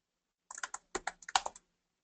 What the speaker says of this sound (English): I'm typing in the wrong stuff now